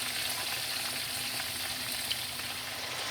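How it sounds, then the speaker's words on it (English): Callaloo seasoning for a Jamaican callaloo with salt pork frying in a pan: a continuous, close, loud crackling sizzle with steady popping, no voices. "So I'm gonna make it fry,"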